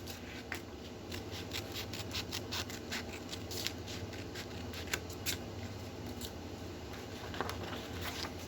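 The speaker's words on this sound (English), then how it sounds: "And now we're going to cut out our fourth hand." Scissors snip steadily through paper while cutting out a handprint shape for a butterfly craft, a close, quick series of crisp cuts and rustles over a soft, constant background hum, with nobody speaking.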